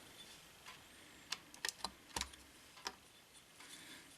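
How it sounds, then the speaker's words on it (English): A small blade cuts miniature clay around a template, giving a few quiet, sharp clicks and taps scattered over a few seconds against a soft background. "Taking my little template here and placing on the clay and just cutting it out."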